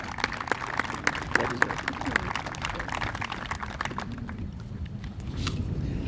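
An audience applauds an award winner at a school cadet appreciation event, with steady, dense clapping throughout and some crowd noise underneath.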